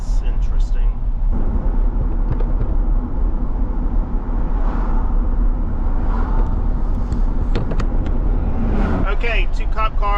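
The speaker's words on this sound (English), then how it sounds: "Okay, 2 cop cars and a Navy vehicle." Two police cars and a Navy vehicle drive past on a road, a steady loud engine and tyre rumble of passing traffic running throughout, with a person talking over it.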